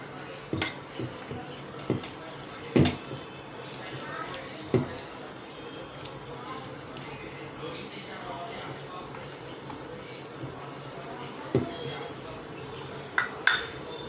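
A spoon clinks and scrapes against a bowl while corn vada batter is mixed with cornflour, giving sparse, irregular knocks over a quiet background with faint voices.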